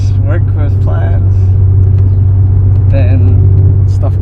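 A 1991 Acura NSX idles with its exhaust running, a loud steady low rumble close by that persists throughout while people talk over it.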